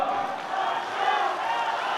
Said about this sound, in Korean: 안철수 후보님, 박주선 후보님, 손학규 후보님 세 분께 다시 한번 큰 박수 주시길 바라겠습니다